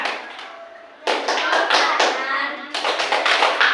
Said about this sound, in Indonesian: Sekarang kita tepuk hebat untuk kelompok putih